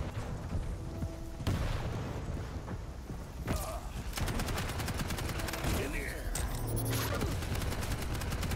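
Explosion in the first-person shooter Quake Champions during a deathmatch on Ruins of Sarnath, set in a dense, constant mix of weapon fire, booms and mechanical clanks.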